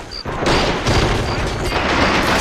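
Bursts of gunfire from the war strategy game MOWAS 2 crackle in quick clusters, loud and close, over a dense battle din with rumbling booms.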